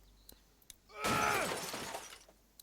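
Window glass shatters in The Walking Dead video game with one sudden loud crash, followed by a spray of tinkling shards that fade over about a second against a quiet background.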